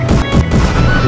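A gunshot and crash in the video game Roblox, a dense, loud, continuous roar of blasts and impact noise that stays heavy for the whole second with no pauses.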